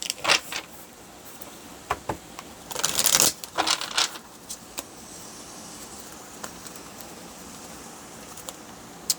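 Tarot cards being shuffled by hand: a dense riffling burst near the middle, preceded and followed by softer scattered taps and card flicks in a quiet room.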